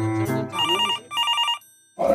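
A telephone rings loudly in a short electronic ringtone burst, two repeated warbling phrases with a pause, after a low sustained tone, with a brief voice or noise at the end.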